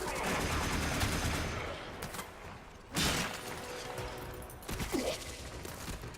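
Projectile gun fire in Warframe comes as a dense, rattling stream of shots, broken by a brief pause and then renewed bursts with metallic clatter, all close and fairly loud.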